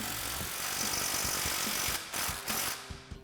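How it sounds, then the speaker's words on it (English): Ratchet wrench clicks in short bursts with an 18mm wrench and 19mm swivel socket, tightening a sway bar nut on a Jeep Gladiator JT during a Rough Country suspension lift install, loud and close with no talk. "So now we can tighten this down with our 18mm wrench and our 19mm swivel socket."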